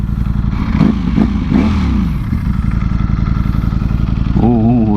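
A fast, powerful naked sport motorcycle is ridden hard, its loud engine roaring close with a few sharp throttle blips and revs, settling into a steady drone before rising again at the end.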